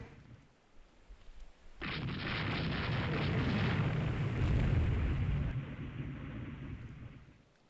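In Rule the Waves 3, naval guns fire at light cruisers, producing a sudden heavy boom that swells into a sustained roaring barrage for several seconds before tapering off, with no voices.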